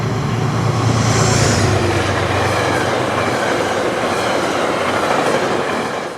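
Diesel passenger train on the Hudson Line roars past a station platform at high speed, a loud, dense rush of wheel and engine noise that fills the whole stretch and fades slightly at the end.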